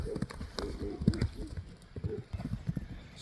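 A horse's hooves clip-clop at a walk in a steady, uneven rhythm, fairly close and moderately quiet, with faint voices and outdoor noise around them.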